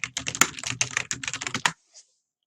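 Fingers type quickly on a computer keyboard, a dense burst of keystrokes lasting under two seconds, followed by a pause and one soft final tap.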